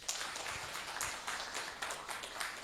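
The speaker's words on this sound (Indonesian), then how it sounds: "Tepuk tangan untuk beliau." An audience at a university gathering claps faintly from afar, a thin, even patter of hands with a few sharper claps standing out, and no voices over it.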